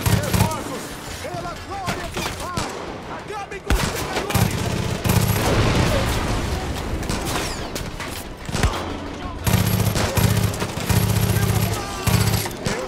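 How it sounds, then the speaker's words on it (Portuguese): Rapid gunfire rattles back and forth in the open-world shooter game Far Cry 5, with bursts of automatic fire and single shots layered over loud, busy action sounds, broken by a couple of brief pauses. "Vamos ter que trocar bala com esses caras aí."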